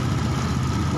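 A Honda Beat scooter engine with a sputtering fault idles with its idle screw opened wide, a steady close engine hum with no pauses.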